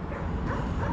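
Several dogs in a pack bark in Dnipro, Ukraine, the barking blurred into a dense, steady wash of outdoor noise over one brief second.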